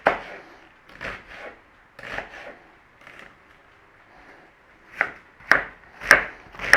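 A knife cubes a red onion on a wooden board, with soft rubbing cuts and then several sharper chops that grow louder near the end, close and alone.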